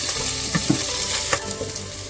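Dried red chillies crackle and sizzle in hot oil for a dal tempering, with mustard seeds already in the pan; a steady close fry with a few sharp pops and light stirring, no voices.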